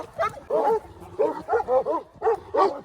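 A dog barks and yips in a series of short, fairly close bursts, with a few whimpering cries mixed in. Its distressed, uneven calls come in irregular clusters, and there is no talking.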